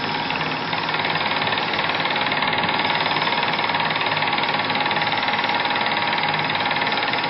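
A wood lathe turns a thin hollow form while a homemade scraper cuts it, producing a loud, steady, dense rasping chatter that holds unbroken for several seconds.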